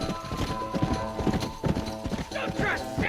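Galloping horse hooves in a video game make rapid clip-clop beats with a whinny near the end. Game music and effects play underneath.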